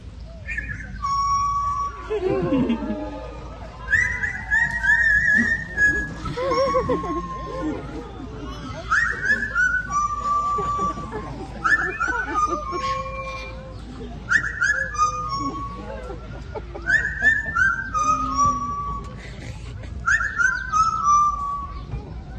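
A parrot at African Lion Safari whistles a bright, warbling tune in repeated rising and falling phrases during a show, with a crowd murmuring softly in the background.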